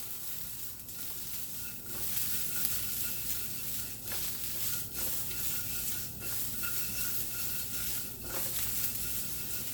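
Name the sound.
green beans searing in a hot wok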